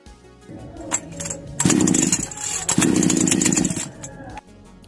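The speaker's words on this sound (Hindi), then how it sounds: "स्टार्टिंग का मोमेंट बना रहा है लेकिन मशीन स्टार्ट नहीं हो पा रहा है" Stihl chainsaw engine cranked with a pull cord after a timing adjustment but not catching: loud, rough bursts of engine noise in two main pulls, each sputtering out, close by.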